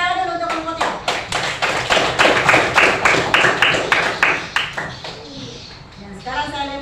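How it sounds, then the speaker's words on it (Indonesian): A classroom of students claps for a group in a fast, even rhythm of sharp hand claps, close and loud, fading near the end as voices come in. "jadi tepuk tangan dulu untuk kelompok 3"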